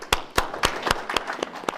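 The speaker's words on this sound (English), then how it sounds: "Ladies and gentlemen, give a round of applause of our distinguished" Brief applause for panelists at an international panel on cultural tolerance in Columbus, a handful of sparse, sharp claps spaced out over under two seconds, close and fairly loud.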